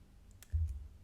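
A single Enter key press on a computer keyboard, heard as a brief, close click and soft thump with nothing else around it.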